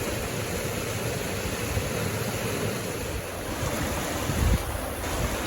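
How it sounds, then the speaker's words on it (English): A waterfall and crystal clear stream on a hiking trail at Graveyard Fields, North Carolina, give a steady, broad rush of falling water, constant and fairly close with no voices over it. "there is our first waterfall"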